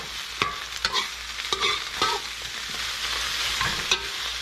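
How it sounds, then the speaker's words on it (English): Cabbage for shrimp chop suey is tossed and stirred in a hot pan, with a steady sizzle and a series of sharp scraping stirs, close and loud, with no voices. "Okay, so we put our cabbage in there. Let's toss it a little, about for 1 minute."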